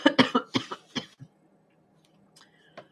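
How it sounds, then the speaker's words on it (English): A burst of several rapid, harsh coughs close to the listener, followed by quiet breathing and a faint final throat sound. "now I'm going to start coughing."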